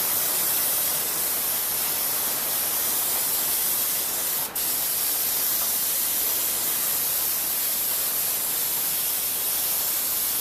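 An airbrush sprays paint over a stencil in a continuous, even hiss, loud and close, broken only by one momentary dip partway through.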